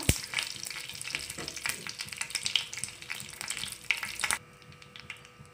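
Curry leaves sputter and sizzle in hot coconut oil for a prawn fry, a dense, bright crackling that runs steadily close up before cutting down abruptly near the end to a quieter hiss.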